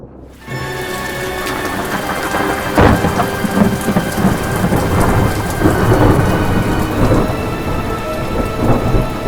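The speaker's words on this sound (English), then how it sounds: "Oh no, it's beginning to storm." Thunderstorm with steady heavy rain pattering on surfaces, a loud thunder rumble early on and rolling thunder beneath the constant downpour, no talk.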